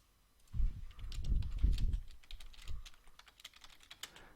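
Clicky computer keyboard typing up close, a quick irregular patter of keystrokes with some heavier thumps early on, no talking.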